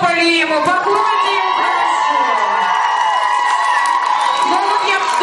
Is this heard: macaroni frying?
no